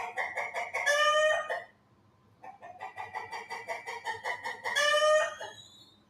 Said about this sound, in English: Very noisy chicken down there.